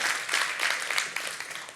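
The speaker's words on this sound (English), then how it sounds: "please raise your hands and clap to our" Audience at an architecture lecture clapping, a short burst of dense, even applause from many hands, moderately loud.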